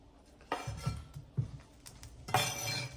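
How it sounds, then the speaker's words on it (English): Vegetarian sausage goes back into a pan for an Italian-style tomato sauce, giving a few quiet clinks and clatters of utensil on cookware, with a sharper scrape near the end. "We're gonna add this back into the pan."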